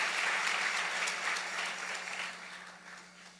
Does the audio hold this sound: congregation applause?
yes